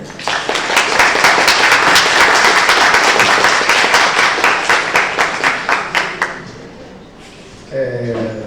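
Loud, dense applause from an audience greeting a speaker before a data science talk, many hands clapping steadily before thinning into scattered claps that fade out as a voice begins.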